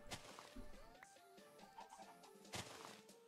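Chickens cluck and chirp in a modded Minecraft world, short scattered calls over a busy game soundtrack, fairly faint and mixed with other game noises.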